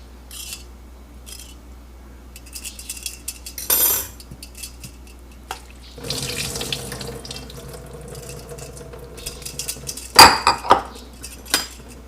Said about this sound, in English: I'm also straining our vermicelli.